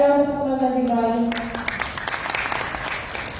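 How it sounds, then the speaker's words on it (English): Applause for a speaker at the ASEAN Personal Care Technology Summit in Jakarta starts right after a voice stops, a moderate, even patter of many hands clapping in a conference hall. "A round of applause, everybody."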